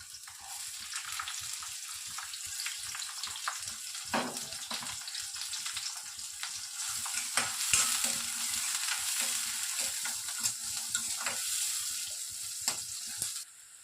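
Chopped onions frying in a pan for an Andhra tomato menthi curry, a soft continuous sizzle with scattered crackles and pops and occasional stirring clatter, fairly quiet and close, with no talking.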